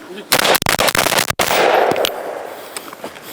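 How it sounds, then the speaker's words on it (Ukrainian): Special forces troops fire at targets in a ravine during shooting drills, a rapid close burst of sharp automatic gunshots followed by a fading echo and scattered later shots. "В цьому яру ми відпрацьовуємо стрільбу по відкритих мішенях, стрільбу по мішенях, які ховаються"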